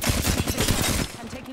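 Apex Legends gunfire, a rapid burst of automatic shots firing close and loud for about a second, followed by a brief tail of quieter sounds.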